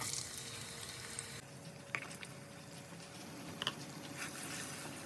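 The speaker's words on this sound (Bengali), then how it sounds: "প্রায় 1 মিনিট ভেজে নেওয়ার পর দিয়ে দিব 2 কাপ পরিমাণ পেঁয়াজ কুচি।" Chopped onions dropped into hot oil with sugar, cardamom and bay leaves for beef korma, giving a steady, faint sizzle broken by a couple of brief clicks, with no speech.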